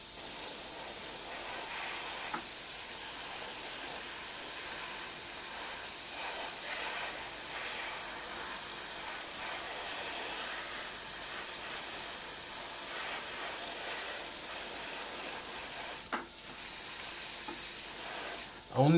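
A faint, steady hiss of airbrush paint spray runs continuously with soft crackling texture, ending in a brief sharper burst and a bump.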